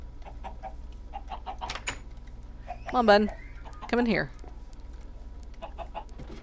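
Chickens in the Minecraft video game cluck twice in short, bright bursts, loud and close, while someone speaks softly between and around them.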